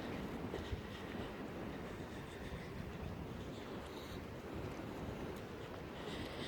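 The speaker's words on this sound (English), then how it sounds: "You can hear the wind blowing." Wind rushes steadily through the woods along Ship Rock Trail on a windy day, a continuous broadband roar with gusty swells and no talking.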